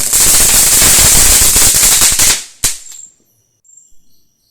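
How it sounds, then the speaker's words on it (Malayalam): Rapid string of loud flower-style firecracker bursts at a home Christmas celebration, crackling continuously for about two seconds, then one final sharp bang followed by faint fizzing and quiet. "പൂ പോലെ പൊട്ടിത്തെറിക്കുന്ന പടക്കം നമ്മൾ പൊട്ടിക്കുകയാണ്"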